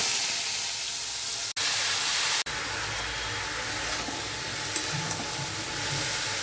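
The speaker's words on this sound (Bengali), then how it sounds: "তারপর আমি সব সবজিগুলো ছেড়ে দিচ্ছি।" Vegetables tossed into hot oil in a wok give a loud, steady, close frying hiss that runs for several seconds, broken by two brief silent gaps, with faint stirring scrapes underneath.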